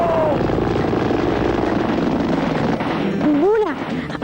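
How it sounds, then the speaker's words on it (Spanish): Loud, steady drone of a nearby helicopter, with a voice shouting briefly over it near the end. "¡Los helicópteros!"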